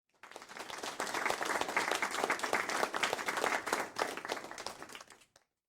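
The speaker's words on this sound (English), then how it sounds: "Like applause or party sound here." A crowd applauds in a dense, steady burst of many hands clapping that runs for about five seconds, then stops abruptly. No talking is heard over it.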